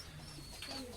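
A Rajshahi Giribaz pigeon in a dealer's pigeon stock gives a brief, faint, soft coo close by, with light background noise.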